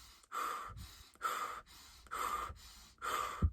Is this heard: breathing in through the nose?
yes